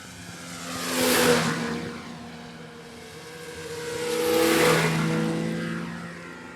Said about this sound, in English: We got some snowmobilers.